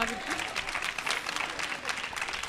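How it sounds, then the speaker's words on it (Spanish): A studio audience at a live Spanish comedy show breaks into warm, dense applause, a continuous wash of clapping heard close, with people talking over it. "Vamos ahí, un aplauso."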